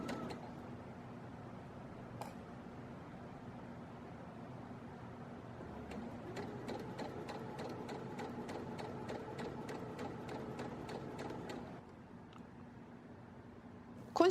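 A domestic sewing machine fitted with a concealed-zipper presser foot stitches in a steady rapid burst of needle strokes for several seconds, with quieter mechanical handling before and after.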